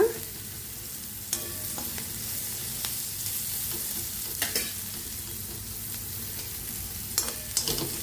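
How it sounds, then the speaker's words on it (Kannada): Onions fry in a pan for ivy gourd curry, a soft steady sizzle with intermittent scrapes and taps of a spatla stirring, close and without talk. "ಈರುಳ್ಳಿಯ ಹಸಿ ವಾಸಿ ಎಲ್ಲ ಹೋಗಲಿ ಅದು ಹೋಗುವವರೆಗೂ ಒಂದು ಸ್ವಲ್ಪ ಫ್ರೈ ಮಾಡ್ಕೊಳ್ಳೋಣ"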